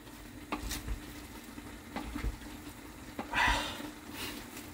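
Carrot, cabbage, pork, onion and garlic are sautéed in a pan, with a steady low sizzle, occasional stirring scrapes and clanks of a utensil against the pan, and a brief louder hiss near the end.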